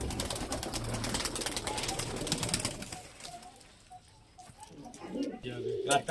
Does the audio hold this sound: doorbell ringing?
no